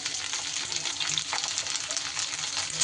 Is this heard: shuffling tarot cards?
no